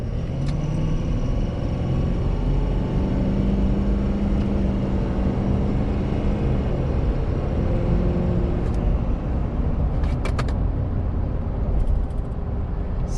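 Ford Super Duty pickup with a 6.7 Powerstroke diesel and Banks Derringer tuner merging onto a highway, heard from inside as a steady loud engine and road rumble with a slowly rising drone and a few faint clicks.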